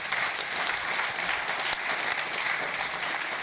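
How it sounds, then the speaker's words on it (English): Steady applause from a conference audience, a dense, even clatter of clapping hands sustained throughout with no voices over it. "Please applause."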